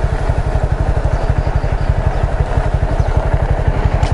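A motorcycle engine idles close by after a ride up a mountain, with a fast, even train of firing pulses that holds steady and loud throughout.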